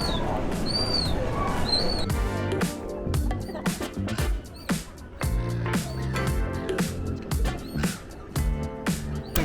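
Pigeon cooing at a coastal outdoor spot in Fremantle, Western Australia, with soft repeated coos and bird calls over busy café chatter, clattering dishes and background voices.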